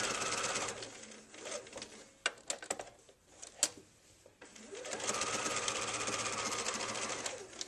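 A sewing machine stitches binding onto a quilt in fast, close whirring runs, pausing briefly with a few clicks and taps before the stitching resumes steadily.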